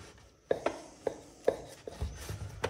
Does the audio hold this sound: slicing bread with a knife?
yes